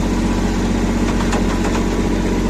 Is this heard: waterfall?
no